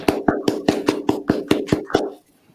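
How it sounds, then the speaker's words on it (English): A rhythmic run of about ten sharp, evenly spaced claps from what sounds like a small group, close and fairly loud, stopping abruptly after two seconds into quiet. "we want to give a round of applause"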